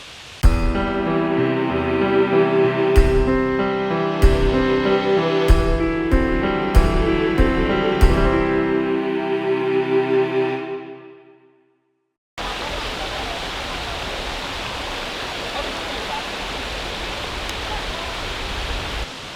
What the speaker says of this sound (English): today we are at Samek Waterfall near Pakse.